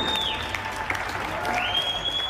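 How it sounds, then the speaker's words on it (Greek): Londoners clapping from their balconies for doctors and nurses, a steady spread of distant applause across the neighbourhood with a faint whistle-like tone drifting over it. "οι κάτοικοι του Λονδίνου βγήκαν στα μπαλκόνια τους και άρχισαν να χειροκροτούν γιατρούς και νοσοκόμες"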